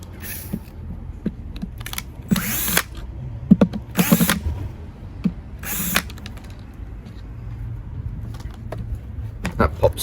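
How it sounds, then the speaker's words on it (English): A power screwdriver with a PZ2 bit backs screws out of a Numatic WVD570-2 twin-motor wet-and-dry vacuum during a strip-down, giving several short, loud whirring bursts between handling clicks and quiet pauses. "Remove the 4 screws holding the handle on."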